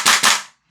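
Two quick, sharp pops in close succession come from a GHK G5 airsoft gun with a low-power nozzle as its trigger is pulled hard, each crack decaying fast.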